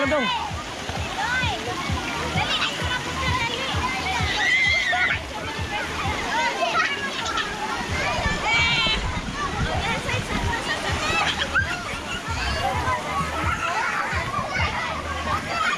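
Children splash and slosh in water while bathing on a farm field trip, with busy, continuous splatter and lively kids' voices talking and shouting over it throughout.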